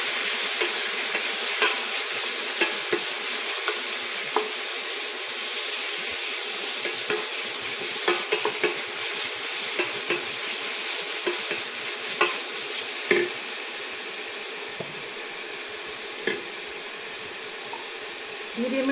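Pork with garlic fries in oil in a pan for pork kimchi stew, giving a loud, dense, steady sizzle with scattered clicks of a spoon stirring, close up throughout.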